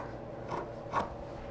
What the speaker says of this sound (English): My scissors are a little dull.